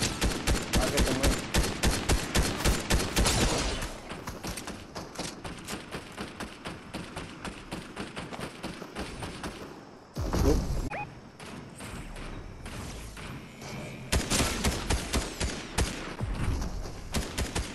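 Gunfire in a Fortnite Zero Build squads match: rapid, loud bursts of automatic shots in dense volleys, easing into scattered quieter fire, then picking up again toward the end.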